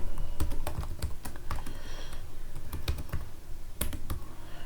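Someone types a command line on a computer keyboard, a close run of crisp, uneven key clicks with a short pause partway, no voices heard.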